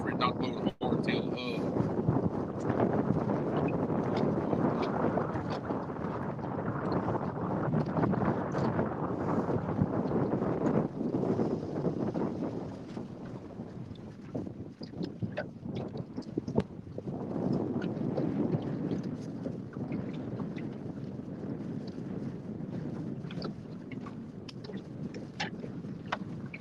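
Wind blows outdoors on open water in Louisiana, a constant rough buffeting rush with gusts against the microphone that lasts throughout, with people's voices faintly under it.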